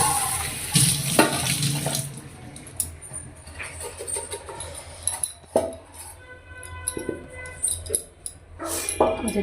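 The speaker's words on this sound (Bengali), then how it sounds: "চা খাওয়া হয়ে গেছে, এবার কাপগুলো ধোয়ার জন্য রাখছি।" Water runs from a tap into a sink while tea cups and bowls are washed, with clinks of crockery and a dog barking briefly; a voice speaks softly at times.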